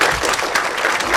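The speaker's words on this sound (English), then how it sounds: "A round of applause for Daisy," Audience clapping for a volunteer at a memory-training guest lecture, a brief steady burst of applause throughout.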